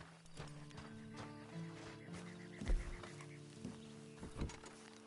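Horse hooves clip-clop at an uneven pace in the video game Red Dead Redemption 2 Online, amid sustained background tones, with a couple of heavier thumps standing out.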